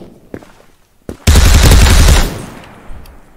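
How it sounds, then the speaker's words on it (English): Submachine gun firing in the browser shooter game Krunker: a single sustained burst of rapid automatic fire lasting about a second, loud and close, preceded by a couple of isolated sharp shots. "The submachine gun."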